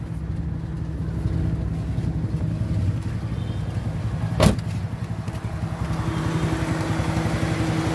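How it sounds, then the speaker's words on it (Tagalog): Close, rough, uneven idle of a Kia CD5 car engine misfiring on its spark plugs, a pulsing low chug with a sharp pop midway, then the engine settling into a shaky running beat. "umandar na ulit siya kaso lang palyado"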